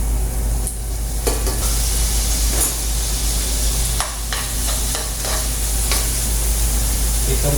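Tuna sautéing in a pan for tuna pasta, a loud continuous sizzle and hiss broken by repeated scraping stir strokes, close up with no talk.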